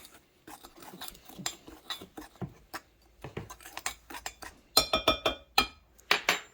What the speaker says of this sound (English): Just gonna mix that up in there.